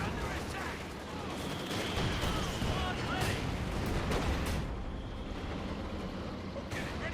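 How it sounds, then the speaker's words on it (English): Artillery shells land in a Company of Heroes 2 match, rumbling with dense blasts and gunfire that build loudly and then thin out, under a commentator's continuous speech. "we got another Rainbow Artillery called in this case against the anti-tank gun."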